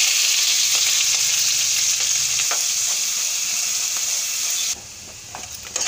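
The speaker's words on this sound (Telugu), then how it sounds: "ఉల్లిపాయ పచ్చిమిరపకాయలు కూడా వేసి వేయించేసుకుందాం." Steady, loud sizzling of onions and green chilies frying in hot oil, with a few faint clinks of stirring, dropping quieter near the end.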